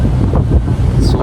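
A strong wind on board a ship buffets the microphone in a loud, continuous rumble, with water faintly beneath.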